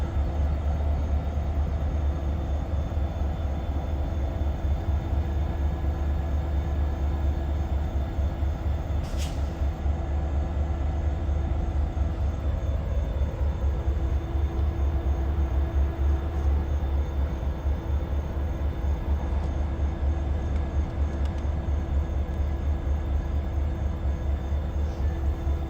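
A Norfolk Southern SD70ACE locomotive hauls a train past at Coffey's Cliff in Chattanooga, Tennessee, a continuous low rumble and rolling drone that holds steady throughout.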